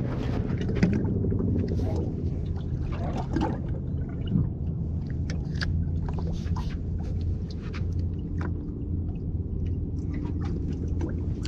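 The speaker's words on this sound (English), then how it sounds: "Got the electric motor out this time." Electric motor on a fishing boat out after winter whiting hums steadily and low throughout, with occasional faint clicks and muffled background voices.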